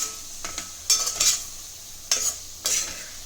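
A spoon stirs mushrooms into a dish in a bowl, giving several close scraping, squelching strokes in uneven bursts, with brief quiet pauses between them.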